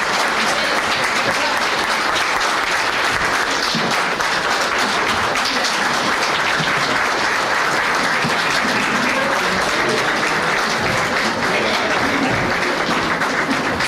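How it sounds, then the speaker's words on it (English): Banquet audience at a Chamber of Commerce awards dinner applauds winners, sustained dense clapping from a large room that holds steady and loud throughout. "Another round of applause for this year's winners"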